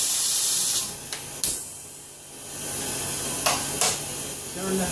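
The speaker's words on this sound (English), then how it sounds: "This is what happens when we hit the button on the plastic and the plastic pulls down tight." Thermoforming machine vacuum drawing heated ABS plastic sheet down tight over a mold for sluice trays, a steady loud hissing rush with a few sharp bursts and clicks near the start and again toward the end.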